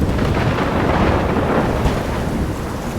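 A thunderstorm in the game Life is Strange gives a steady, loud roar of rain and rolling thunder with no break and no voices.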